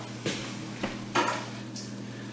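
Roasted chicken bones are lifted out of a simmering stock pot with mirepoix, giving a few soft clinks and scrapes of a utensil against the pot over a low steady kitchen hum.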